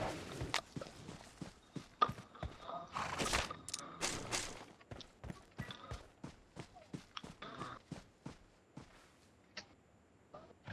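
Horse hooves in an online shooter video game make a steady run of crisp clip-clop thuds at a lively, even pace, fairly close and alone.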